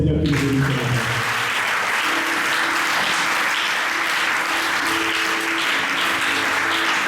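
A church congregation applauds the Lord with loud, sustained clapping from start to finish, a dense and steady wash of hands with a few voices rising beneath it.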